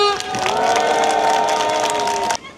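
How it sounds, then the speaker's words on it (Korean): Party members and citizens at a Jeju political rally clap and cheer together while a sustained tonal sound rings out over the crowd, cutting off abruptly near the end. "서로 응원과 격려의 박수 부탁드립니다"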